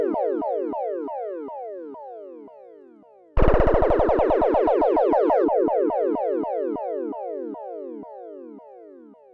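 Oberheim OB-X8 synthesizer on its Whippets factory preset, a down-sawtooth LFO bending the oscillator pitch in repeated downward swoops that slow over time, broken by a dense buzzing burst in the middle; loud and alone, no voices.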